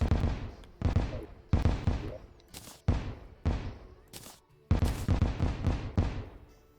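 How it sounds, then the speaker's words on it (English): Repeated explosions in modded Terraria go off in a rapid irregular string of sharp booming bursts, several per second with short gaps, fairly loud and close, with no voices. "I've had this stupid explosion thing so long, I tune it out."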